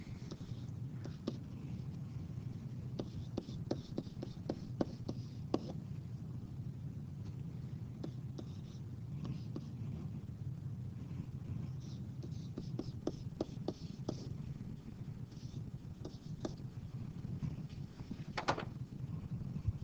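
Calculus math written out by hand sounds as irregular bursts of short scratchy pen strokes, close and fairly quiet, with pauses between lines against a low background rumble.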